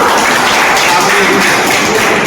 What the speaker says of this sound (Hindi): जोरदार ताली जब प्रभु के लिए